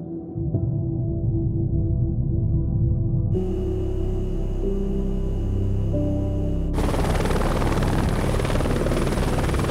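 A critical care medical transport helicopter drones loudly and continuously, its rotor thrum and engine whine steady throughout, with the tone shifting as it flies.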